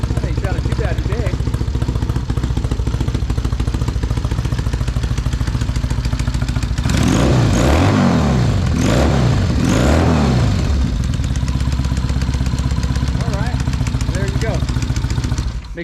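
A 1999 Harley-Davidson Sportster engine running nearby, a loud steady idle with an uneven lumpy pulse, rising briefly into throttle blips in the middle before settling back, while someone talks over it.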